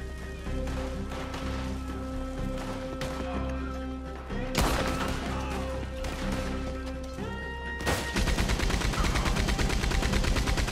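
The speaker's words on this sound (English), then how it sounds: "Shouldn't have gone in front of the Maxim gun." A Maxim machine gun fires in Red Dead Redemption 2: sustained, loud rattling bursts of rapid shots with sharp cracks and a heavy impact, the firing growing denser and closer near the end.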